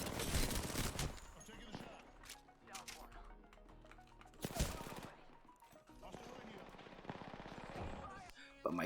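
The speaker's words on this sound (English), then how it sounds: "Got in a gunfight and end up losing to Wraith." Bursts of rapid automatic gunfire in an Apex Legends firefight, with sharp close shots followed by quieter stretches and more volleys, while a voice talks over the action.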